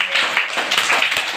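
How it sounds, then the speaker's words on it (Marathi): A classroom of schoolchildren claps together for a classmate, a quick, crowded patter of small hands, close and brief, with no talk. "त्याच्यासाठी टाळ्या वाजवा बरं सर्वांनी."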